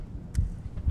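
A heartbeat sound effect from a horror video game, a few low, soft thumps pulsing under a dull hum in under a second, with no one talking.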